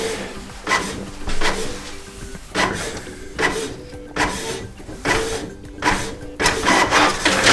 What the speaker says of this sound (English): just click on information button, and all network information about your printer will be successfully printed